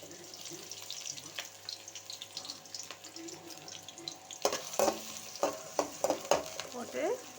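Chopped onion fries in hot groundnut oil with a steady sizzle. In the second half it turns louder and choppier, with sharp bursts as the onion is stirred and tossed in the pan. No voices.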